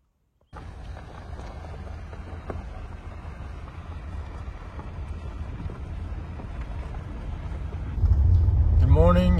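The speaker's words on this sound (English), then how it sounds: "I like that the wind kind of masks the noise" Steady wind blowing outdoors at a picturesque roadside spot in Arizona, a continuous broadband rush with low buffeting that swells louder near the end.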